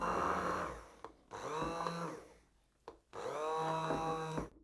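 An electric blender churns thick garlic mayonnaise made with oil, running in three loud bursts with brief pauses between them and the motor pitch straining under the dense mixture.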